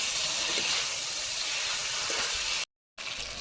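Fried potato and eggplant go into spiced masala in a hot pan, setting off a steady, bright sizzling hiss that runs evenly, briefly cuts out, then resumes.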